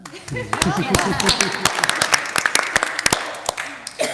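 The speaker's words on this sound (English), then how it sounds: "So We can clap." Attendees at a homeowners' board meeting break into clapping, sharp individual claps close by and irregular, with a voice talking at the start before the applause takes over.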